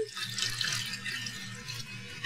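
Whole milk and cream poured into a bowl, a quiet continuous liquid splash and trickle lasting throughout with no voices.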